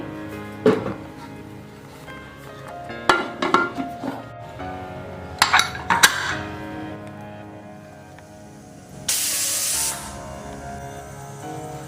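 Steam hissing loudly from a pressure cooker releasing pressure near the end, after clinks of pots and utensils, while goat leg (mutton paya) curry cooks; no whistle is clearly evident.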